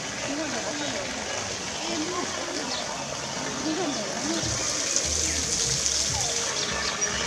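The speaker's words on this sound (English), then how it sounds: "hot water oozing out from these wells." Lukewarm hot spring water flows steadily out of drilled bore wells at Tattapani, a continuous trickling wash under a voice talking throughout.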